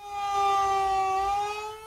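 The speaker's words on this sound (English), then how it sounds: "Across the city, the wailing of sirens kept nervous Dallas residents awake overnight" City sirens in Dallas wail in a sustained, steady tone with only a slight pitch drift, loud and continuous across the whole moment.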